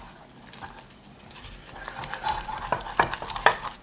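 A spoon works through curry sauce thinned with milk in a pan, a soft wet sizzle building into quicker, louder scrapes and clinks toward the end.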